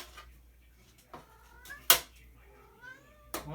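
A house cat meows several times, rising and falling calls with a sharp click between them, heard close by during a TV scrapping job in a room with a faint background hum.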